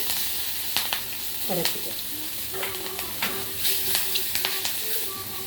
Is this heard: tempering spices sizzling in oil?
yes